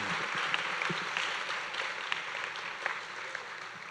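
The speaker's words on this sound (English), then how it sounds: "Let's have one more round of applause for the class of" Sustained applause from a crowd at a middle school honors ceremony, a dense, even wash of clapping heard from a distance with no voices over it.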